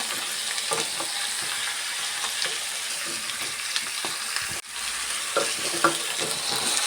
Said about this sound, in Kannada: ನೋಡಿ ಈ ಥರ ಸ್ವಲ್ಪ ಫ್ರೈ ಆದಮೇಲೆ ಈಗ ಸ್ವಲ್ಪ ಅರಿಶಿನ ಸೇರಿಸ್ಕೊಳ್ಳೋಣ